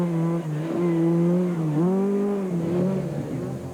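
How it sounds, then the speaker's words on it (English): A full-blown rally car at the 1998 Stannic Rally of South Africa powers through tight corners, its engine note rising and falling steadily and loud and close for about four seconds, with no one speaking. "the sight and sound of a full-blown rally car driven by masters of their craft is something to behold"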